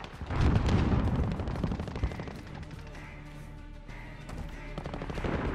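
Rapid bursts of video game gunfire from automatic weapons and heavier blasts, loud at first and then easing into a steady, busier background of battle noise.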